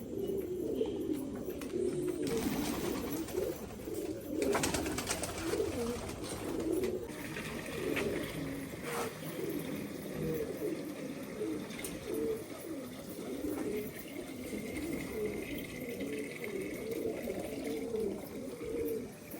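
Pigeons in a loft coo softly and continuously, a low murmuring chorus that runs throughout without pause.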